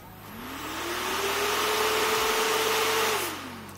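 A computer cooling fan driven at 12 volts through a homemade speed controller whirs up to a loud, steady hum with a rising tone, holds there, then winds down near the end.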